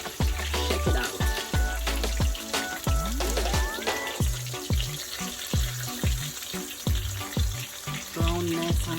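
Mustard-coated fish fillets fry in oil with a loud, steady crackling sizzle, punctuated by repeated knocks and scrapes of a utensil against the pan.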